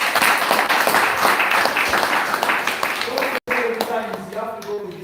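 Applause from a group at an agroforestry gathering fills the first few seconds with dense, close clapping, then breaks off abruptly and gives way to a voice speaking.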